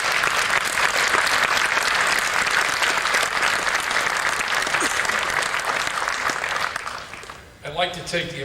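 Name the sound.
audience applause at Mortal Kombat 3 presentation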